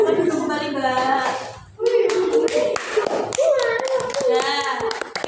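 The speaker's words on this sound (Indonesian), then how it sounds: "Tepuk tangan buat kelompok lavender." A classroom of schoolchildren claps for a student group after its presentation on zakat. The sharp clapping is close and lively, mixed with children's voices chattering throughout.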